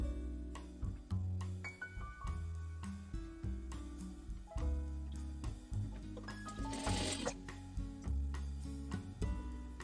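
Sewing machine stitching the inseam of boxer briefs, rapid mechanical needle chatter in short runs with brief pauses between, close and steady, no talk.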